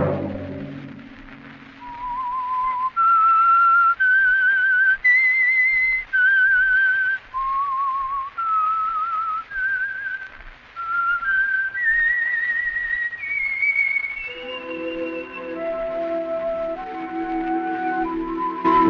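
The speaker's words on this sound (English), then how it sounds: "Let that whistle be your signal for the Whistler each Sunday night at the same time" A whistled melodic theme from a 1950s radio mystery drama, rising and falling note by note for several bars, clear and close, followed by a lower orchestral accompaniment swelling in near the end.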